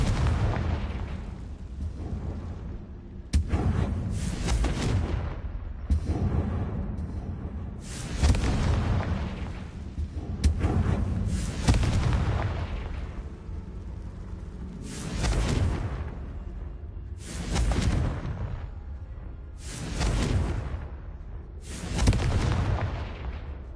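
Confringo fire spell blasts in the Hogwarts Legacy video game: a series of loud, heavy booming explosions with roaring tails, repeating every few seconds, some back to back, with no voices.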